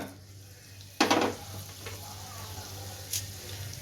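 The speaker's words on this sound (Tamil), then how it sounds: "மொத்தம் கருவேப்பிலை நல்லா பொறிஞ்சு வந்துட்டு" Curry leaves tossed into hot oil in a kadai give a sudden loud spluttering burst that settles into a steady low sizzle, with a second smaller crackle moments later.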